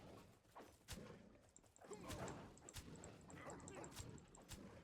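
Dogs bark and yip close by in a zombie video game, short sharp barks repeating irregularly over a busy bed of game noise and thuds.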